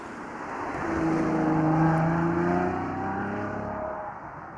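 A Ferrari FF, weighing nearly 1.8 tonnes, accelerates with a rising engine note that swells to a peak, then eases off as the car drives on, heard from a moderate distance with no talk.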